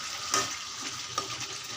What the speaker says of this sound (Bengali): আঁচ কমিয়ে দিয়ে ধীরে ধীরে কষাচ্ছি।